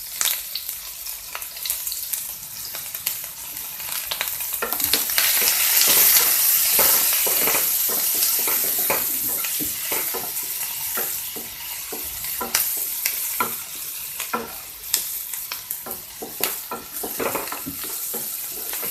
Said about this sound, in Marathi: आता यात बारीक चिरलेला कांदा, हा कांदा आपल्याला गुलाबी होईपर्यंत परतून घ्यायचा आहे।